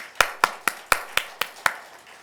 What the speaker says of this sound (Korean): 하나님께 영광의 박수 올려드립시다